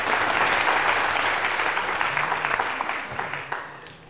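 An audience applauds a contestant on a school book quiz show, with loud, dense clapping from many hands that holds steady and then tapers off toward the end.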